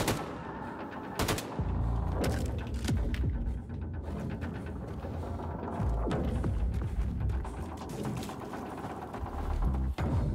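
Gunfire in the shooter game Wolfenstein 2: The New Colossus, with sharp, loud shots and bursts of automatic fire over a throbbing, mechanical game soundscape, with no speech.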